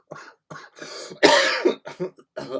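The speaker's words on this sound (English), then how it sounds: "I apologise for the loud coughing there" Several loud, harsh coughs and throat clearing from someone who is unwell, coming in short bursts close to the microphone, with the strongest fit in the middle.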